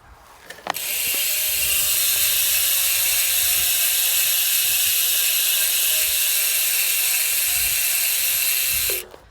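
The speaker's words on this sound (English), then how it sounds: "That sound is achieved by the hub having 120 points of engagement" A mountain bike's rear hub ratchet, with 120 points of engagement, buzzes in a fast, steady whir of clicks for about eight seconds, close and loud, starting and stopping abruptly.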